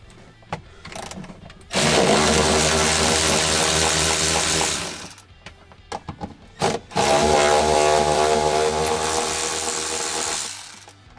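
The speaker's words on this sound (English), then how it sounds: "I'm going to cheat a little bit and use my M12 ratchet" An M12 cordless power ratchet removes bolts on a two-door Ford Bronco's cargo area. It whirs loudly and close in two sustained runs of a few seconds each, with brief pauses and clicks between them.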